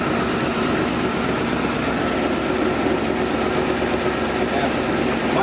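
Engine of a 64-year-old car with a freshly rebuilt carburetor, running at a steady, loud idle with a continuous rough rumble.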